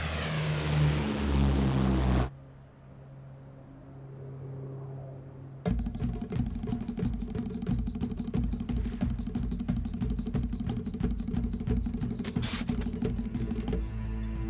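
A twin propeller airplane takes off from Dallas Downtown Airport. A loud engine roar opens, drops to a quiet lull, then returns with a strong, pulsing propeller drone that builds and holds to the end.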